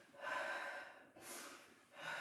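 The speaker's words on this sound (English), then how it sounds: "sniff in between, breathe out" Sharp sniffing inhalations and breathy exhalations during a floor-to-barre exercise class, alternating in a steady rhythm of a sniff in followed by a longer breath out, close and clear with no talking.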